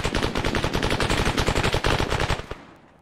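Rapid automatic gunfire in a military firefight, loud, close bursts of dense repeated shots for about two and a half seconds before cutting off into a fading tail.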